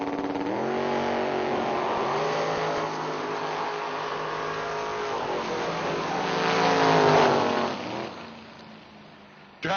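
A dragster racing down a drag strip, its engine a loud, sustained roar with rising revs that swell near the end before cutting off, heard from trackside with no talk.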